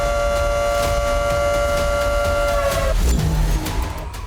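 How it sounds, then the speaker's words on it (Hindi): Air raid sirens sound in Israel during a missile alert, a loud sustained wailing tone with a steady pitch that drops away near the end amid a rumbling outdoor background. "इजरायल में सायरन गूंजने लगा"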